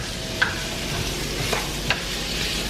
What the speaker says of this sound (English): So we just continue to saute that for a little bit.